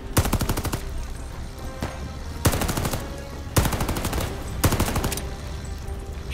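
Gunfire from a Call of Duty: Vanguard campaign mission comes in four loud bursts of rapid automatic shots, separated by brief pauses, with battle noise continuing underneath.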